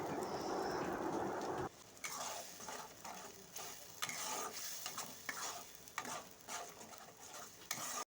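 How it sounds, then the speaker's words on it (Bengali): Spice paste stir-fried in oil for a Bengali rohu fish curry: a loud sizzle opens, then quieter frying broken by repeated scraping strokes of a spatula against the pan at an uneven rhythm. "খুব ভালো রকমভাবে মশলাটাকে কষিয়ে নিতে হবে"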